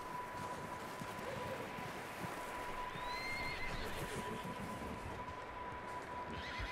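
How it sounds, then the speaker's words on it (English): A horse whinnies faintly with a rising, drawn-out call amid a dense, noisy background in the video game Red Dead Redemption 2, along with soft hoof clatter and a steady electronic tone. "I hear horses."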